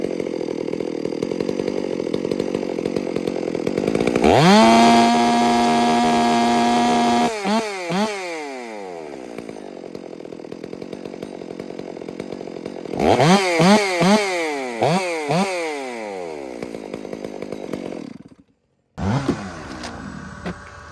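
Chainsaw on a built saw revving hard during carburetor tuning on the high and idle settings: a loud sustained scream at full throttle, dropping into a warbling burble as it falls back toward idle, then a second rev and a brief cut to silence.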